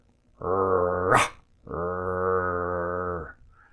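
A human voice imitates an angry dog's growl in two sustained, buzzing rasps, the first ending in a brief hiss, the second held longer, close and fairly loud with a short pause between them.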